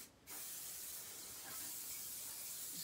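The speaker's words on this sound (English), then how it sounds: "Just give it a little spray." Fixative is sprayed from an aerosol can over a soft pastel drawing, a steady close hiss starting after a short pause and continuing without break.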